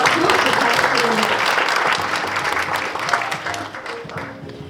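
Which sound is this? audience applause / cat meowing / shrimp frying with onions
audience applause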